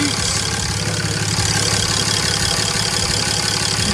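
Cummins 6.7 diesel engine idling after a fuel rail plug install, a steady close rumbling drone with a rhythmic low knock that runs throughout.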